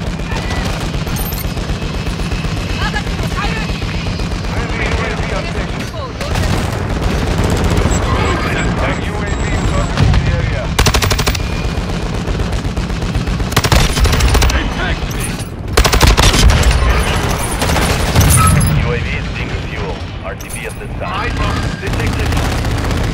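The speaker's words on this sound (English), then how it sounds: "Taking effective fire." Heavy automatic gunfire rattles through a Call of Duty Modern Warfare 2 multiplayer match, loud bursts and sustained volleys mixed with booming blasts, while voices speak in between the shots.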